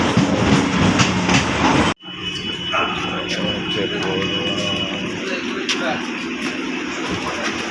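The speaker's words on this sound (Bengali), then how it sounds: "শিয়ালদা যাওয়ার গাড়ি এসে গেল" A Sealdah-bound local train pulls into a station platform, a loud rumbling roar with rail clatter and a sharp break, then steady wheel noise continuing beneath voices and station bustle.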